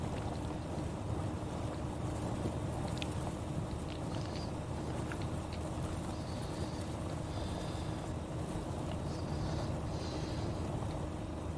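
A car driving in the survival game DayZ, its engine giving a continuous, rough, strained rumble with a noisy rushing wash that stays at a steady level throughout, with no voices.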